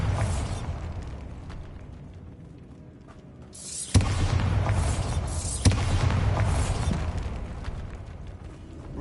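Bombarda blasting spell in Hogwarts Legacy, two sharp booming explosions a couple of seconds apart, each followed by a rumbling, crackling debris tail over a low ambient backdrop.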